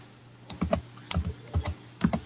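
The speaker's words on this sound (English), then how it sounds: "What you typing?" Someone types on a computer keyboard, with close, crisp keystrokes that come in quick clusters separated by short pauses.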